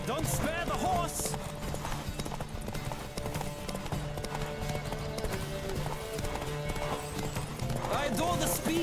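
Galloping horse hooves from The Witcher 3 pound in a continuous clip-clop, mixed with game music and occasional voices, staying fairly loud and even throughout.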